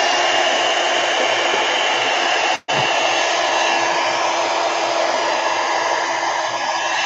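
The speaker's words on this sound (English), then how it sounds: "let me get the heat gun, heat gun, heat gun" A heat gun blowing on a watercolor painting to dry it, a loud, steady, close whoosh of airflow with a very brief dropout partway through, no voices.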